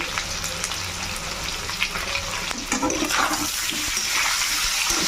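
Potatoes frying with turmeric, salt and pepper powder in hot oil for aloo dum, a steady loud sizzle with stirring scrapes throughout, no voices.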